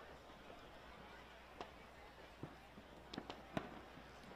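A July 4 fireworks show over a baseball field, heard as faint, distant scattered pops and bangs spread over several seconds against a steady ambient background.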